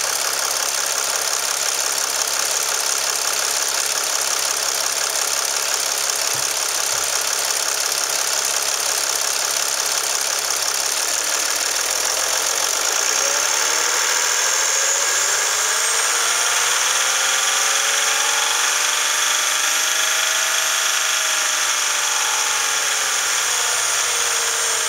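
A 2007 Dodge Sprinter 2500 with a 3.0 V6 diesel and 513,319 miles idles steadily at a salvage yard. The engine hums and clatters loud and close, with a faint whine that shifts midway through.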